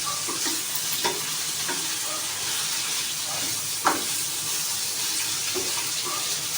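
Galunggong fish with malunggay leaves cooks in a pan, giving a steady, soft sizzle with a few light clinks of a utensil and no talking over it.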